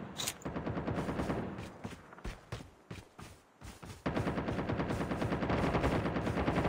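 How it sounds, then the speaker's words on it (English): Rapid bursts of automatic gunfire in a Call of Duty battle royale match, fast rattling volleys that break into short gaps and then resume as a sustained, dense stream, fairly distant and steady. "Where is that shooting coming from?"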